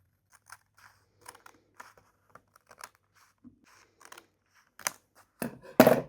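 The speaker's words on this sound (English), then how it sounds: "I'm just going to cut the straight line" Scissors cutting a straight line through paper in a quiet room: sparse, soft snips and crisp paper crackles, ending in a few louder, closer cuts.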